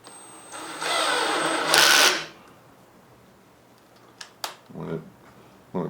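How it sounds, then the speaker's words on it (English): A cordless drill with its clutch set to about 18 spins into a hole on a van build, whirring for about two seconds and then stopping. Some brief clicks and knocks follow. "So you just put the end of the drill end in the hole."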